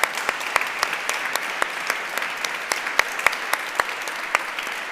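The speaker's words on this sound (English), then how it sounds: "I think that deserves a round of applause" An audience claps steadily in a continuous round of applause, with a few sharp individual claps standing out against a dense, even wash.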